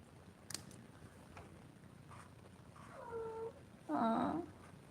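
A pet cat gives two meows close by, a short one then a louder, longer one, after a few faint taps.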